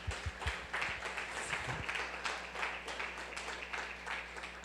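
A church congregation applauding during a Portuguese-language Sunday service, a steady, dense patter of many hands clapping at moderate volume that carries on evenly throughout, over a low background hum.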